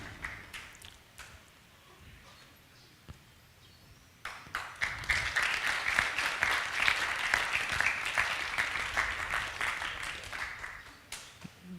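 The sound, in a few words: audience applause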